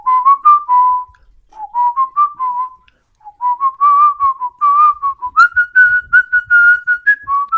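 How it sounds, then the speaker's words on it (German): A person whistles a melody alone, clear and close, in several flowing phrases with brief pauses, the tune rising higher toward the end. "Hier haben wir jetzt mal vorgepfiffen."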